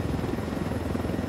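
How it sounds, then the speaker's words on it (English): A helicopter in the video game Ghost Recon Wildlands throbs steadily, a loud continuous rotor chop with a low engine rumble, close and unbroken with no talk over it. "you have to turn the helicopter sideways, put the side of the chopper towards the trucks"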